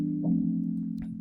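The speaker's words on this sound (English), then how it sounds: "So inside expand, I use Celeste," Afro House chords played on a Celeste preset inside the Expand plugin, a sustained harmonic pad with a couple of soft bright accents, heard alone without talk.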